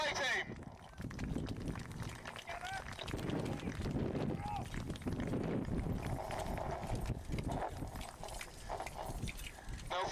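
Hooves of a 17th Lancers cavalry display team trot steadily across ground at an outdoor military show, a continuous rhythmic clatter heard at moderate distance while a commentator talks over the public address.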